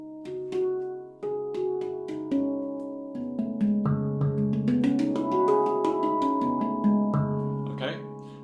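Handpan struck with the fingertips on the inside rim of its note fields, producing warm, rounded metallic tones that ring and overlap as a slow melodic sequence of notes, close and clear with no voices.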